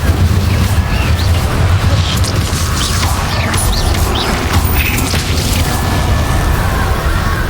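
An Incendio fire spell cast during combat in a Harry Potter video game: a dense, roaring burst of flame and crackling impacts over constant loud game noise, with no pauses.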